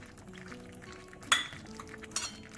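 Wheat halwa with fried cashews and cardamom being stirred in a pan over a medium flame, with soft scraping and two sharp metallic clinks of the spoon against the pan.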